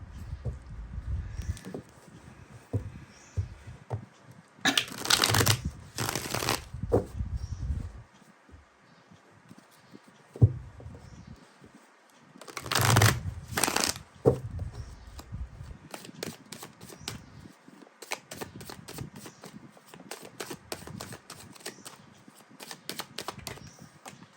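Tarot cards from three decks are shuffled and handled, giving soft, close papery riffles and bursts that come in clusters with quiet pauses between them and no talking.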